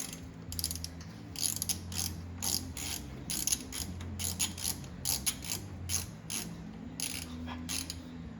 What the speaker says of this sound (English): 90 tooth ratchet. It doesn't take much movement for it to lock and catch another tooth if you're in a tight spot.